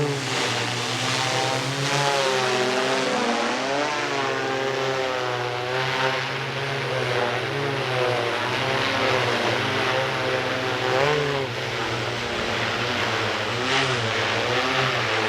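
A drone with a wireless access point attached flies indoors in a warehouse. Its propellers make a steady, loud, close buzzing whine that wavers in pitch as the rotors speed up and slow down, with no speech.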